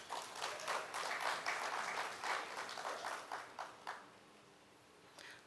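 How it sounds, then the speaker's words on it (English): An audience applauds a decorator at a results release ceremony, a dense wash of clapping from many hands that holds steady for several seconds, then thins out and fades to a few scattered claps. "give a round of applause to Celebrations, Mrs. Verna Brandt"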